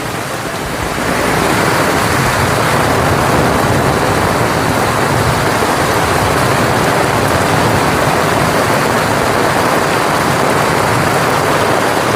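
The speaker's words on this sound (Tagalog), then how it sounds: "Ah, grabe, ang lakas ng ulan." Loud, continuous downpour of heavy rain, a thick steady hiss that swells in after a brief quieter start and holds without letup.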